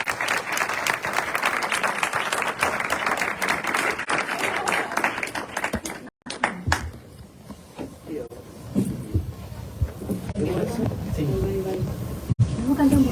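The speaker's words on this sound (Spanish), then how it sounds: "un muy fuerte aplauso para H.D. Goswami" Audience applause for a guest speaker at a Spanish-language talk, a dense steady clapping for about six seconds that then drops out, leaving quieter room sounds with scattered claps and voices.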